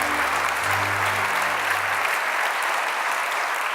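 Sustained all-round applause from the audience at a European Heritage Awards ceremony for the research category winners, a dense, even roar of clapping with a low musical tone fading out partway through.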